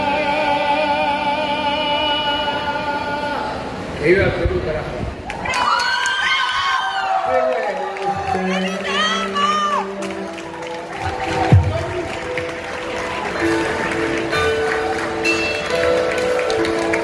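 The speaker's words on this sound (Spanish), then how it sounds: "Ese aplauso para ellos" A concert crowd at a live show by a Spanish singer cheers and shouts over lingering music, a dense roar of voices that swells and stays loud throughout, with scattered clapping mixed in.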